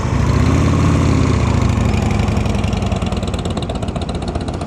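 An Indian Scout motorcycle engine idles close by in a steady, loud, throbbing rumble with a rapid even pulse, running alone without talk.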